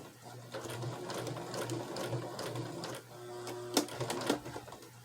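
A sewing machine stitches through a quilt with a close, rhythmic mechanical whir and clatter, pausing briefly before resuming with a few louder clacks.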